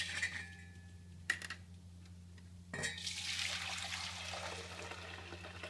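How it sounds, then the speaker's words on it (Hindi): Soaking water being poured off swollen wheat grains after three days of soaking, with a couple of sharp clunks of the container followed by a steady splashing, trickling flow close by. "अब हम इसका पानी निकाल देते हैं।"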